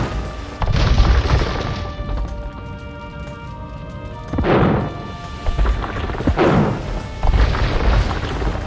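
Spanish cannon galleons firing in Age of Empires 2 as ships sink, a few heavy booming cannon blasts and crashes rolling over a dense battle din, loud and close.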